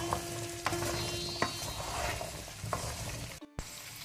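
Star gooseberries sautéing in oil for a Mangalore pickle give a soft continuous sizzle, with a few light stirring knocks from a utensil and a brief dropout near the end.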